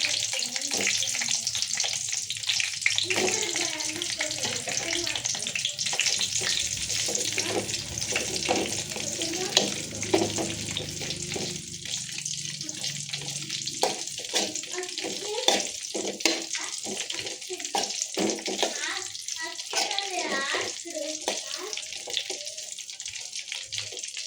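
Steady sizzling of eggplant frying in hot oil, close and continuous, with occasional crackles throughout.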